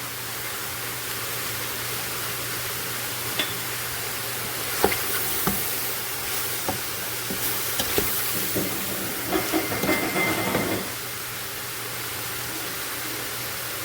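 Spices, mushrooms and vegetables frying in a pan, a steady close sizzle with a low hum beneath and scattered scraping and stirring clatters partway through.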